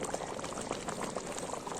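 Water is poured into a cooking pot in an outdoor village kitchen, a continuous gurgling, splashing flow at moderate volume that runs steadily throughout.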